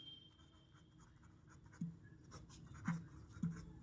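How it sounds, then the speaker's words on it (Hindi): Pen writing on paper while working a Class 10 maths problem: soft scratchy strokes with a few sharper taps, close and quiet, with no one talking. "सबसे पहले लिखते हैं"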